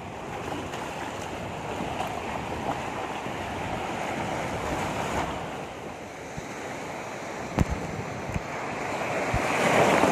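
Ocean surf washes and breaks steadily along a beach at a tourist spot, with wind buffeting the microphone and the roar building near the end.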